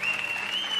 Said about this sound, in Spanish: Señores, señores, fuerte el aplauso.